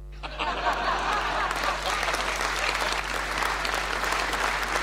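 An audience at an award ceremony bursts into sustained applause, a dense wash of clapping that begins abruptly and keeps going steadily, with a few scattered chuckles mixed in.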